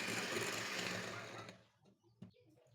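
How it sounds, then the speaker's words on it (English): A hand mixer creams margarine and sugar for a Christmas fruit cake, giving a loud, steady close-up whir for about a second and a half before it cuts off, leaving faint knocks behind. "I will also measure my margarine and I will cream them using the hand mixer"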